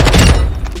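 Gunfire in a first-person shooter video game: a loud, close burst of shots lasting under a second.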